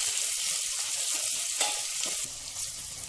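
Chopped onions sizzle and crackle loudly in a hot pan while being stirred, with a steady frying hiss and occasional scraping, and no talking.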